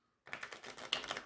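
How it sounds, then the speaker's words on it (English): A small, stiff oracle card deck with thick cardstock gets a riffle shuffle: a quick, close run of soft flapping card clicks lasting about a second, heard alone without speech. "it's a little bit stiff, but it gives a good riffle shuffle."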